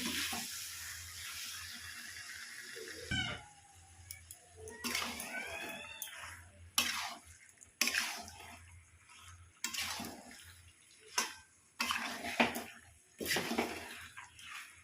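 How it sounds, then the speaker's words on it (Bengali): Fried small potatoes tipped into a pan of spiced gravy and stirred, giving a series of wet, scraping clatters and splashy bursts with short pauses, fairly close and moderately loud. "এবার দিয়ে দিচ্ছি ভেজে রাখা আলুগুলোকে। ভালো করে মিশিয়ে নেব।"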